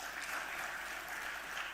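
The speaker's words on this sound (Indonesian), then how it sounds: "Tepuk tangan buat kita." An audience at a football association congress applauds in a steady, moderately distant burst of clapping, with no voices heard over it.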